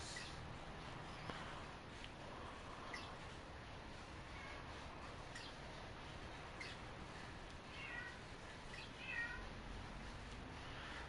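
A house cat cries indoors, giving faint, intermittent meows over a steady background hiss.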